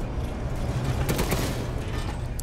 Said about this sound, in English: this is the only gun I can shoot